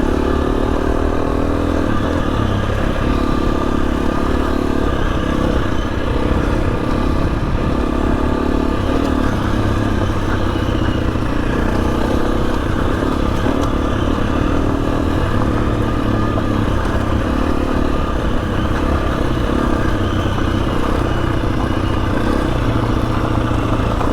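A motorcycle engine droning steadily and loudly while riding along Old Coach Road, a continuous close rumble with wind and road noise throughout.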